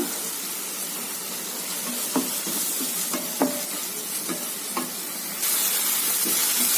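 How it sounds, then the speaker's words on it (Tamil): Tomatoes sautéing in a pan for bread channa masala, a soft steady sizzle broken by scattered clinks of a spoon stirring against the pan, with the frying growing brighter toward the end. "தக்காளி நல்லா வதங்கட்டுங்க"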